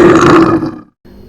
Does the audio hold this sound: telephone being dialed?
no